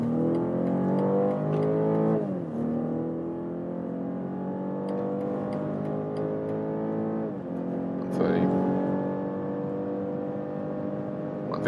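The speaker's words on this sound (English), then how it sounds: "Sport mode with the X3, and let's also accelerate from 50 kilometers an hour with the power of both drivetrains." BMW X3 in sport mode accelerating hard from 50 km/h, the engine note rising steadily through two upshifts, heard from inside the cabin at moderate loudness, with a voice briefly over it.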